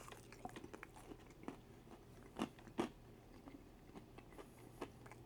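Quiet, close crunches of teeth biting into crispy breaded food, a few sharp bites standing out amid softer chewing crackles over a faint background hum.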